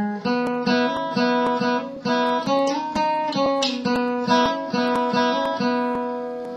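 A guitar plays the riff from a song, with hammer-ons among the picked notes. The phrase repeats at a steady rhythm and sounds close and clear, with no voice over it.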